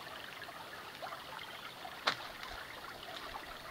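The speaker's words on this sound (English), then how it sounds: "Ain't the sound of the water cool?" Water trickles softly in a stream at a campfire cooking spot, a faint continuous babble with a brief louder splash near the middle and no voices.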